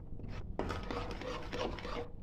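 Sugar is stirred into a papaya mixture cooking in a pan, a close, continuous soft scraping and rubbing that swells in a few strokes.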